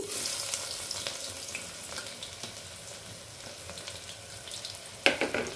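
Onions frying in hot oil with shahjeera and a little cinnamon bark for Andhra-style dum bhaji, a steady close sizzle with occasional stirring clatter and a sharper spatula scrape near the end, no talking.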